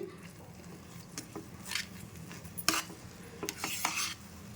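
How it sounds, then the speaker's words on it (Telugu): Semolina stirred into hot water in a pan while making ravva kesari, heard as a soft scraping stir with a faint sizzle and a few sharper spoon-on-pan scrapes, fairly quiet and with no talking. "ఉండలు చుట్టుకోకుండా కలుపుకోవాలి"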